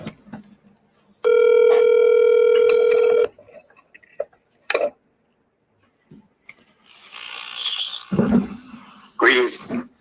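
A phone call rings out over a speakerphone as a single steady electronic ringback tone lasting about two seconds, followed by clicks, then noisy, hissy line distortion as the call connects.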